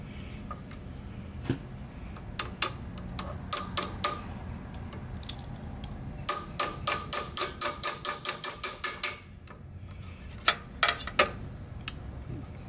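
A nut and washer being removed during a Ford 4000 tractor teardown: sharp metallic clicks of a ratchet wrench, rapid and evenly spaced in one long run, close and fairly quiet, with a few scattered taps and clinks around it.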